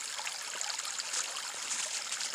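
Overflow water from a ram pump trickles and splashes steadily back into a creek, a close, continuous bright babbling flow with no voices.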